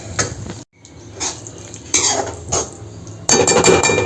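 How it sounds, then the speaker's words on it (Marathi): A spoon works mashed brinjal together with spices and spring onion for vangyache bharit, giving several bursts of scraping, clinking and soft squelching against the bowl, with a brief pause early on and louder, busier mixing at the end. "छान असं मिक्स केलं आहे वांग्याला."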